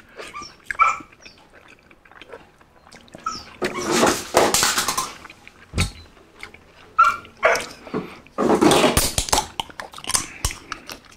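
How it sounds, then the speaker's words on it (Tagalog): A dog barks in loud, sharp bursts mixed with softer whimpers and whines, the sounds coming in irregular clusters close to the listener. "Yung aso namin."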